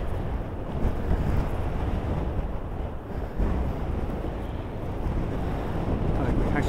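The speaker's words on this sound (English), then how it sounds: "Excuse the camera, it's very windy." Strong wind buffets a camera microphone on a beach at Lunan during blowing sand, a continuous loud low roar with steady gusting rumble throughout and no clear voices.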